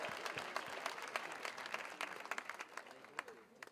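Audience applause for an award nominee at an awards ceremony at a hotel, a brief burst of dense clapping from a crowd, tapering slightly toward the end, with a voice faintly under it.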